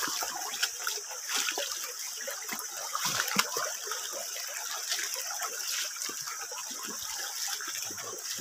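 A fast-flowing forest river rushing and gurgling steadily, with splashes as someone wades upstream through the water; no voices.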